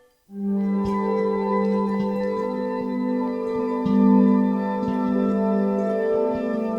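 A steady, continuous ambient bed of flowing water, layered with sustained tonal hums, holding an even level throughout with no voices.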